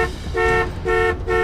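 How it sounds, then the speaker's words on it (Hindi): A car horn honks in three repeated blasts of a steady tone, loud and close, over low background noise. "और कैम हॉर्न बजा रहा है।"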